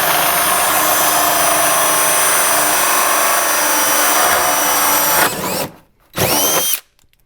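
Power drill boring through a fiberglass panel during a battery relocation to the trunk of a C6 Corvette or Cadillac XLR, a loud steady whine for about five seconds, then two short bursts before it stops.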